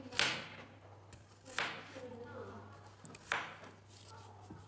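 Knife slicing peeled potatoes into medium-thick rounds on a board, three distinct crisp chops spaced about a second and a half apart over a low steady hum, close and fairly quiet.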